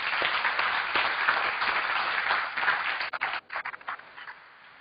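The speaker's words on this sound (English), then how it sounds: "I'd still like to give them a round of applause." Conference audience applauding at the closing session of a physics computing workshop, a dense sustained clapping that thins into scattered claps and trails off toward the end.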